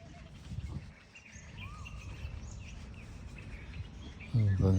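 Faint bird chirps and short tweets scattered through the open-air grounds of a resort near a zip line, thin and distant over a low ambient wash, with a louder rumbling burst near the end.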